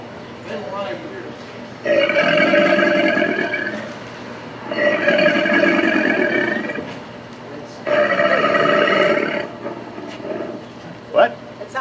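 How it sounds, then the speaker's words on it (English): Three long, deep, rumbling alligator bellows, each lasting a couple of seconds, separated by short pauses, loud and resonant with a growling, vibrating quality. "It's an alligator bellow."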